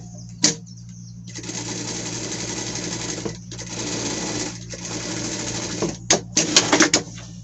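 A sewing machine stitches a seam on small pet clothing, buzzing in steady runs with brief stops between, then a few quick stuttering bursts at the end, close and loud with no talk.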